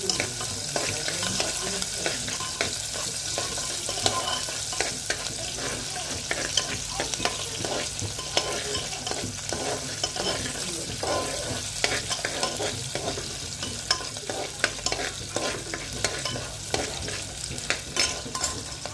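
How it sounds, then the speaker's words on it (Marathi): Onion sizzles steadily in a pan while a spoon stirs and scrapes it almost without pause. The frying is close and dense throughout, with no speech. "कांदा परतून घेऊन"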